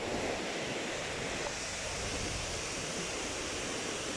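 A mountain waterfall at Panta, Quezon Province, gives a constant broadband rush of falling water, steady and fairly distant, with no voices over it.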